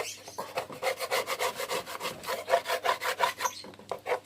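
Repeated rhythmic scraping of a tool across a wooden stingless bee (Trigona laeviceps) box, clearing old propolis residue, about a dozen steady close strokes with no talking.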